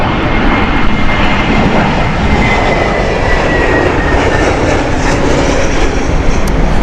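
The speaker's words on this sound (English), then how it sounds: "This is the Munich flight from Lufthansa here, the Airbus A320" A Lufthansa Airbus A320 from Munich roars loudly and close at Heathrow, a continuous broadband jet engine rush with a faint whine over it.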